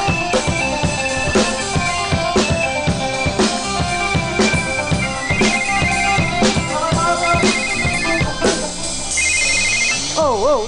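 A mobile phone rings with a loud, steady, repeating electronic ringtone melody that goes on for about ten seconds, with people talking faintly underneath.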